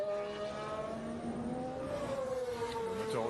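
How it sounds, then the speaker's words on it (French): A Formula 1 car at the 2021 French Grand Prix practice session screams past at a distance, its engine note rising and falling as it shifts through gears, faint under a broadcast bed. "Le moteur au bas qui a gardé ses propriétés sonores, hein, qui garde ce son toujours aussi rauque"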